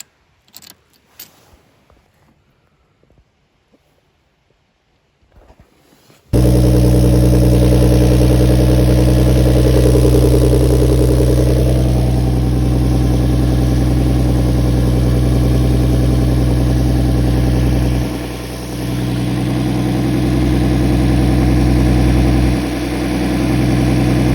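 A Lexus drift car's engine idling after an oil leak repair on the sump: faint clinks and rustling first, then the engine starts and holds a loud, steady, deep idle with a couple of brief dips.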